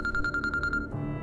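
Mobile phone ringing in an Indian drama series scene, a rapid, regular electronic trill of about eight pulses that stops abruptly, with a low musical score underneath.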